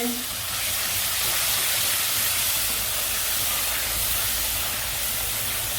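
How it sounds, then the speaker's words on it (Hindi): Water poured into a hot pan of turmeric, coriander powder and cumin gives a loud, steady sizzling hiss close by, holding almost unchanged throughout with no voices. "थोड़ा सा पानी शामिल करेंगे।"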